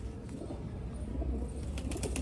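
Soft, low pigeon cooing repeats against a steady background hum, fairly close and unhurried, with no voices.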